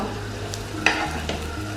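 Cabbage sponge bites made with egg fry in shallow oil, a faint, steady sizzle with a couple of brief clinks from turning them in the pan.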